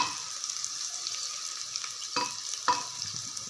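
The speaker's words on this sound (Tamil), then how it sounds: "எண்ணெயில் கொஞ்சமாக நான் வெந்தயம் தாளிச்சுக்கிறேன்" A steady hiss of fenugreek seeds sizzling in hot oil, with a couple of brief clinks from stirring; close and fairly quiet, no talking.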